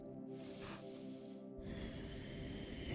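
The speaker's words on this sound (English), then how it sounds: "3 deep breaths here." During a stretching exercise, a person takes slow, deep breaths, two soft, close airy inhales and exhales in quiet surroundings.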